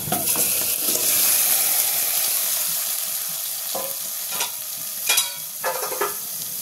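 Papaya and chicken curry poured into a hot pan sizzles and fries loudly and steadily up close, with a few sharp clanks of a spoon against the pan toward the end. No voices.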